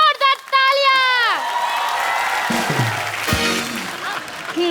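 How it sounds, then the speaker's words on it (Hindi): Studio audience on a comedy show bursting into loud applause mixed with cheering and whoops after a short musical sting, sustained throughout with some voices in the crowd. "इन दोनों के लिए जोरदार तालियां."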